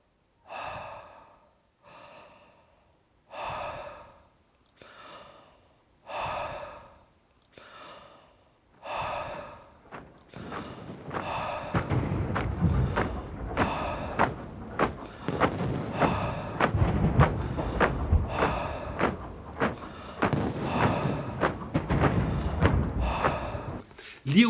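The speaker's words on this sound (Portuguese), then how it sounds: "E a marcha volta a ser escutada, misturada à respiração e a barulhos de bombas." Slow, heavy breathing from Liu Wei's video artwork "Sars" repeats in about nine even cycles, then a dense barrage of loud, deep bomb blasts and thuds crowds in and continues without pause.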